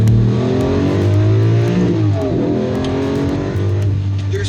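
A Lamborghini Reventón accelerates hard, its engine note climbing loud and close before dropping at a gear change around the middle, then pulling up again through the next gear, with no voices.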